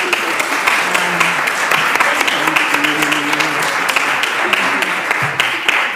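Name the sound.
audience applause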